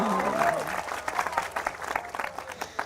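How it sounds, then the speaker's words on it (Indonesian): Audience applause at a talk, a scattered burst of clapping from the crowd that follows a voice at the start and grows uneven and patchy toward the end. "Tepuk tangannya mana dong?"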